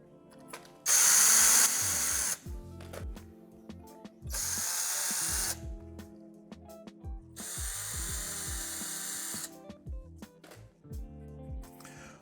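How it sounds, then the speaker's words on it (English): A power drill bores into parts for a flight simulator cockpit side console build, with three loud sustained whirring bursts and shorter clicks and clunks between them, close up and without speech. "If you haven't drilled it the wrong way yet, you will drill it in the wrong way."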